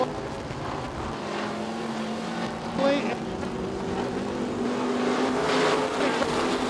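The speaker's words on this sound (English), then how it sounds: "here comes the race car of Norris." Dirt track race cars roaring around Gallatin Speedway in Belgrade, Montana, a steady engine drone with rising and falling pitch as cars pass, heard under an announcer's continuous race commentary.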